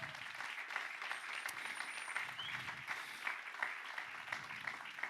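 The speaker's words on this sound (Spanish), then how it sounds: "Dar un aplauso al Señor." A church congregation applauds steadily for several seconds, a dense wash of clapping that stays fairly even throughout.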